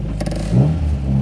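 The engine of a 1959 MGA 1500 roadster is heard during a downshift from third to second, a brief rising rev with some clatter, close and fairly loud.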